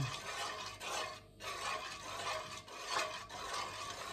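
A spoon stirs a majablanca mixture in a pot: soft, repeated wet swishing strokes in an uneven rhythm, close by and faint, with no voices.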